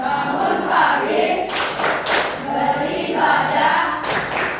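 A group of Indonesian children claps in rhythm to the Tepuk Anak Indonesia Hebat chant, several sharp hand claps striking out over the murmur of the group, with no clear talking.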